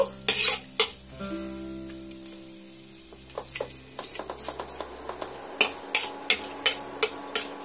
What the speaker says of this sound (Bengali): ফোড়নের জন্য আমি 1 চিমটে কাঁচা জিরে দিয়ে দেব, আর দিয়ে দেব 2টো শুকনো লঙ্কা। এ দুটো ভালো করে আমি হালকা আঁচে ভেজে নেব